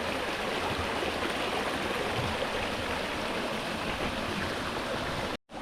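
Steady rushing of water tumbling between two rocks on a hill trek near Kanyakumari, close and continuous, cutting out briefly just before the end.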